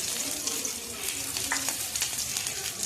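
Garlic frying in a pan, followed by onion being added, gives a steady close sizzle with faint stirring scrapes in a home kitchen, continuous and even throughout.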